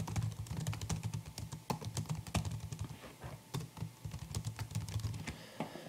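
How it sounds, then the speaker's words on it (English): Rapid typing on a computer keyboard, a steady patter of close, crisp keystrokes with a few brief pauses, and no talking. "And I type in my little signature at the bottom."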